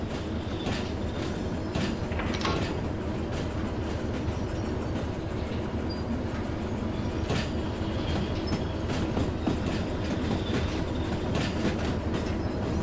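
A heavy freight train in the Derail Valley railway game rolls along the rails with a continuous loud rumble and rhythmic wheel clatter, plus occasional brief squeals, with no talking.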